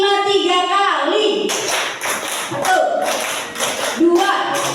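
A group of schoolchildren and teachers clap together in short rhythmic bursts of five claps, repeated in sets, loud and close, with a teacher's voice and children's voices between the bursts.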